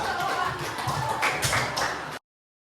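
A classroom of students claps together for a fellow student, a dense steady patter of hands at close range that cuts off abruptly after about two seconds.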